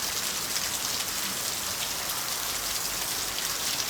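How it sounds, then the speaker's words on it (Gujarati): Rain pours steadily onto a rooftop terrace, a dense continuous hiss of drops striking the surface, loud and close, with no voices. "બહાર ઠંડો તો ગાઈસ વરસાદ આવી ગયો છે"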